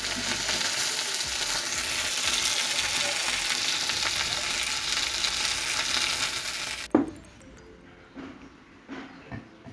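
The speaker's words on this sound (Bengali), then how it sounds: "একটা মাছ ভেজে নিচ্ছি" Fish frying in a pan, a loud, dense hiss of oil sizzling steadily for about seven seconds, then cutting off sharply, leaving quieter clinks and scrapes of utensils.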